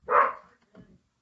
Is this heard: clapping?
no